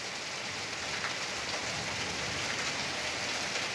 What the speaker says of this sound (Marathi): जालन्याच्या घनसावंगीमध्ये मुसळधार पाऊस बरसतोय